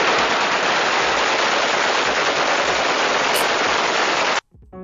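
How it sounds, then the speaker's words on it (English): An AK-47 Kalashnikov rifle fired into the air at a Saudi wedding, a dense, continuous automatic burst lasting over four seconds, loud and close, then cutting off abruptly to faint background. "Here's some footage of me shooting an AK-47 in the air during a wedding."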